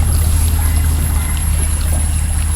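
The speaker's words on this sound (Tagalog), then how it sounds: "Narinig niyo yung tubig." Clear river water flows steadily near a farm tree house, a continuous close rushing and trickling wash with a low rumble underneath, no voices.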